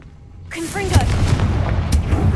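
Fire-blast from the Confringo spell in Hogwarts Legacy: a rising magical whoosh with short tonal sweeps bursts into a loud, rumbling blast that keeps roaring to the end.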